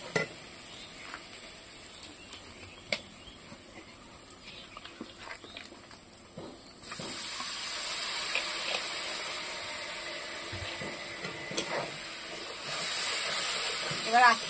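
Spice paste cooking in a pan over low heat for a banana-flower (mochar) dish, a soft steady sizzle and stirring that grows louder and denser halfway through, with scattered clinks of a spoon against the pan.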